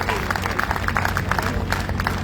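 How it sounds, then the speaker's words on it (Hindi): An audience applauding a local legislator at a live poetry event, dense continuous clapping from a crowd, moderately loud and steady. "एक बार जोरदार तालियां बजा दीजिएगा सर के लिए"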